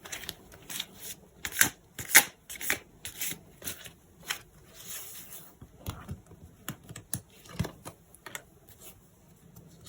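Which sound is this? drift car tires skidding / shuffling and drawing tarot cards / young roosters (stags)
shuffling and drawing tarot cards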